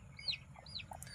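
Newly hatched chicks peep faintly in a village poultry coop where a hen has hatched her brood, giving a few thin, high, rising chirps over a low background hum.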